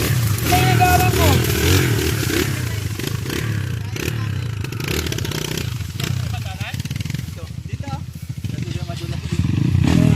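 An enduro motorcycle riding a slippery trail in Palawan, Philippines: its engine drones and rises unevenly, with clatter and scraping, and people talk over it much of the time.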